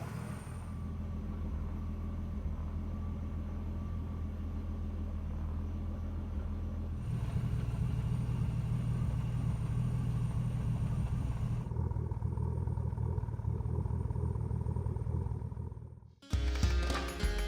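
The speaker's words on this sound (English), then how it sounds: "The car is officially running." A turbocharged BMW E46 engine idles steadily just after its first start, a loud continuous low rumble that shifts slightly in tone partway through before a brief dip near the end.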